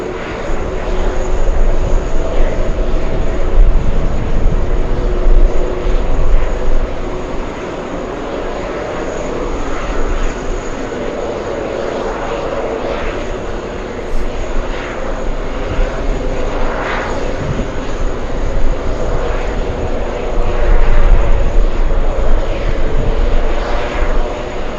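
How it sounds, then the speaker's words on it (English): A Delta Airlines Boeing 737 jet airliner arrives with a loud, sustained engine roar that swells and eases slightly as it moves along, heard up close with no talking. "To the next arrival, what do we have? Delta Airlines"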